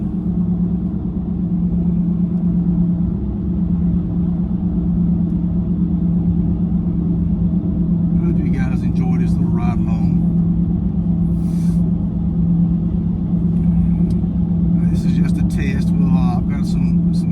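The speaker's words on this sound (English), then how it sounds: "Like I say, the truck drives really good." A 2000 Dodge Dakota quad cab 4x4 with a 4.7 V8 and high mileage cruises on the road, its engine and tires making a steady low cabin drone, with faint rattles and clicks near the end.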